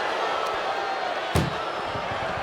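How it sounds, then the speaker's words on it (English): Ambulance doors slammed shut during an ambulance match in the WWE 2K25 wrestling video game, a single sharp bang near the middle standing out over steady crowd noise. "Load her into that ambulance and slam those doors."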